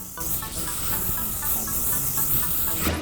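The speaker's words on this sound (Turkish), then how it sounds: "Egos'un hacim spreyini şöyle sıkıyorum." Egos volume hair spray hisses from an aerosol can in one long continuous burst lasting nearly three seconds, close and steady, aimed at a ponytail being styled.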